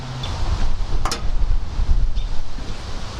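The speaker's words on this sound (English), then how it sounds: "Sorry it's really windy" Strong gusting wind buffets the microphone outdoors beside a Mazda Miata with its valve cover off, a steady low rumble with a brief sharp crackle near the middle and no voices.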